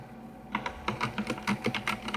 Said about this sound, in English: Your mic really likes your keyboard, Adrian.